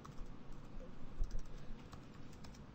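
Quiet, rapid clicking of computer keyboard keys as code is typed in an irregular patter, fairly close, with no talking.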